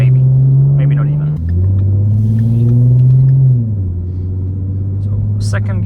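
A 2015 Ford Mustang with a 3.7 L V6 accelerates hard on a road, its loud engine note rising and then dropping at gear changes. A voice talks over it throughout.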